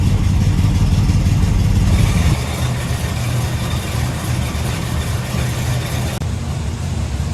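An old project car's engine runs steadily nearby in winter, a loud low rumble that drops slightly after a couple of seconds and then holds an even idle.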